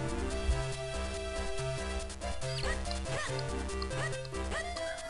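A dog in The Legend of Zelda: The Minish Cap gives a few short, chiptune-style barks over looping game music.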